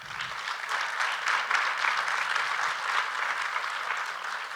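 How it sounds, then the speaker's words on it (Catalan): Audience applauding after a film screening introduction at a festival, a steady dense wash of clapping from a seated crowd, moderately loud and continuous throughout with no voices. "Un aplaudiment per la Imma, sisplau"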